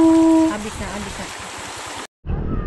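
A fast-flowing stream rushes beside a road near Biduk-Biduk, a steady broadband wash of water under people talking, briefly cut off near the end before resuming.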